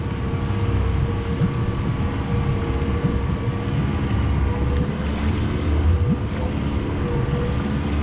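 A Stabicraft boat's engine idling at raised revs while crab pot line is hauled, a steady close rumble mixed with wind and water noise throughout.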